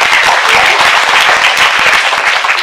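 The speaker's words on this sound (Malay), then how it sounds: "Tepukan sikitlah pada Aisyah" An audience at an Islamic talk event claps loudly and close for a young woman named Aisyah, a brisk, dense burst of applause lasting a few seconds.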